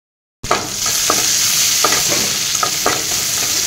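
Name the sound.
chopped onion frying in oil in a wok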